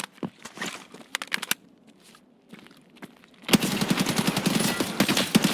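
Automatic gunfire bursts loud and close from the player's weapon in Escape from Tarkov, first a short rattling volley, a quieter pause with footsteps, then a sustained rapid stream of shots to the end.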